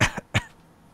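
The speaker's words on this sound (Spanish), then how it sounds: "ha sido un golpecillo de tos" Two sharp coughs close together, the second a short hacking burst, followed by quiet; no one speaks.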